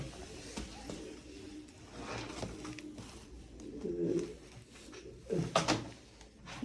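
Soft throaty pigeon coos come in a few separate bursts, close by, over a faint background hum with occasional small knocks.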